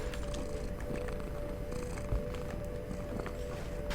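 A laptop fan whirs in a low, steady, purr-like drone, continuous and close with a faint tonal hum and slight fluttering texture, no voices.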